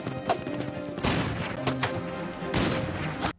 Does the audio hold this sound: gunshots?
yes